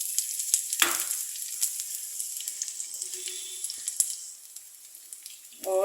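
Chopped onion hits about a cooking spoon's worth of leftover oil in a pan and bursts into a sharp sizzle. It settles into a steady, fairly quiet frying hiss with small crackles, and a few faint spoken sounds come near the end.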